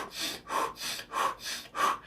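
A person imitates rapid, laboured breathing to demonstrate dyspnea, with six quick, loud, evenly paced breaths that alternate in and out, heard alone at close range.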